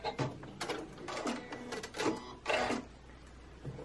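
A sewing machine stitching a lock stitch on face mask fabric, a few short mechanical whirring runs with brief pauses between them, close and moderately quiet with no talking.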